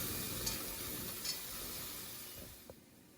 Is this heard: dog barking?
no